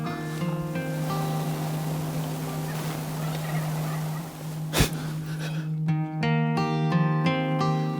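Wild turkey toms gobble repeatedly as a flock approaches, loud, layered calls overlapping in bursts with a brief sharp knock midway and a steady low hum beneath.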